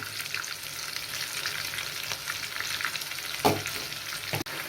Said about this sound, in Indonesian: Oke, kita akan tumis.